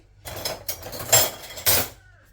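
A knife cutting through a tuna and potato cake into squares, three or four short scraping cuts with clinks against the dish, close and isolated, then silence.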